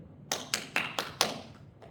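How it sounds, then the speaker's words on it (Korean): Five sharp hand claps ring out in an even rhythm from a church congregation, fairly faint and close together, followed by a softer sixth clap, with no talk over them. "두 손을 박수 쳐주세요"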